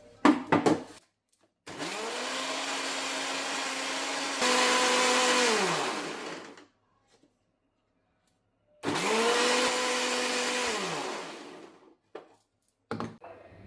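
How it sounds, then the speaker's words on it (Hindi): A mixer grinder grinds a wet masala of tomatoes, turmeric, coriander and chili powder with a little water, two loud whirring bursts with a steady motor tone, separated by a pause and followed by small clatters. "हल्का सा पानी डाल के मसाला पीस रही हूँ"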